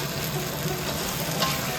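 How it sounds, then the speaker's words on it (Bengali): Chopped onions sizzle and crackle in hot oil with panch phoron for a Bengali rui fish curry, a steady frying hiss close up, with occasional stirring and no talking. "ভেজে রাখা পেঁয়াজ কুচিগুলো দিয়ে ভেজে নিচ্ছি"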